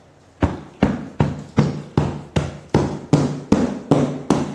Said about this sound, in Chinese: 我们可以用2个经络拍，从大腿的根部往脚踝方向拍打